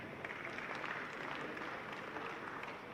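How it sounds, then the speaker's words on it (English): Audience at a coffee buyers' event in a convention center applauds Funzo Coffee, a soft, steady wash of many hands clapping, fairly distant and even in level throughout. "I want to ask you all to clap for Funzo Coffee"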